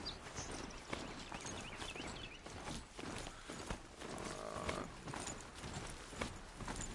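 A rhino-horse-like machine in the Horizon Zero Dawn video game makes a steady run of clip-clop footsteps over continuous game ambience, with occasional creaks and clanks.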